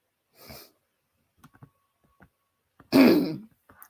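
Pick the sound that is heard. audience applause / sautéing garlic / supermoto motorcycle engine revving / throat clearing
throat clearing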